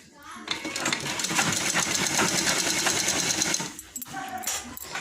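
A sewing machine stitches a blouse along chalk marks in a fast, steady mechanical whir that runs loud and close for several seconds, then drops briefly before starting again, with a voice speaking faintly alongside.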